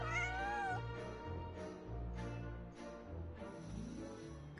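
A cat meows repeatedly in a video game, with several drawn-out, wavering calls sounding close and clear over a steady low musical or ambient bed.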